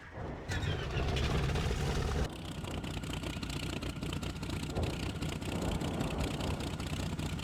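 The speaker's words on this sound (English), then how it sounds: "Okay, let's start the engine." An aircraft engine in the IL-2 Sturmovik (2001) flight game cranks and catches, then settles into a steady, loud droning run that continues unbroken with no speech.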